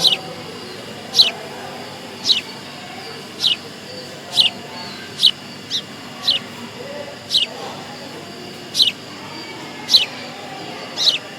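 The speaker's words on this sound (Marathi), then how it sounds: "या चिमण्यांचा चिवचिवट आहे" Sparrows in a school garden give sharp, high chirps at a fairly regular pace, roughly one per second and about a dozen in all, over a quiet outdoor background.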